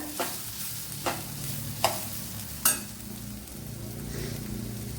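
Onions and tomatoes sauté in a pan for Kerala-style egg mappas, a soft continuous sizzle under occasional sharp spoon taps and scrapes against the pan, close and fairly quiet.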